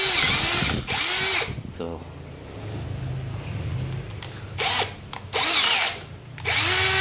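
Aneerpower 13mm cordless brushless hammer drill whirring loud and close in several bursts as it works against a jack top, with quieter gaps of low rumble between runs and someone speaking briefly.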